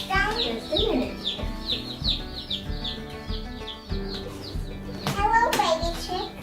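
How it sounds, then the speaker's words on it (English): Baby chicks on their first day on a farm cheep in a steady run of high, quick peeps close by, while children and an adult talk over them. "Hello, baby chicks."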